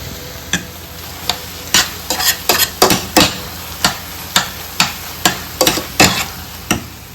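Mashed banana being stirred with brown sugar in a pan, a spoon scraping and thumping in a steady series of close, distinct strokes with no voices.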